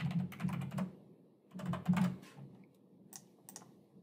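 Typing on a computer keyboard to enter a new password, two quick bursts of clicking keys close by, followed by a couple of lighter isolated taps, no talking.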